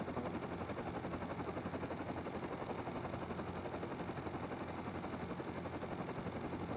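Sustained rapid gunfire in the survival game Rust during an online raid on a large metal base, a dense continuous rattle of automatic shots that stays loud and steady throughout with no talk over it.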